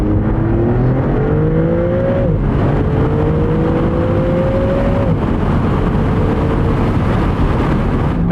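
Maserati MC20 Cielo accelerating hard through gears, a loud sustained engine drone rising in pitch, dropping at each upshift around the two- and five-second marks, then climbing again, heard up close from inside the car.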